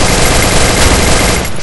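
Rapid, dense gunfire bursts from a mobile battle royale game played on an iPhone 8 Plus, loud and continuous like automatic weapon fire, with no voices over it.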